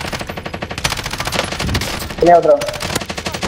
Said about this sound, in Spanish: Sacando tiros por allá también.